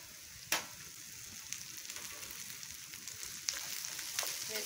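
Cut okra frying in a pan with peanuts, a constant bright sizzle with a sharp crackle burst as pieces hit the oil and occasional spoon scrapes while stirring, no voices.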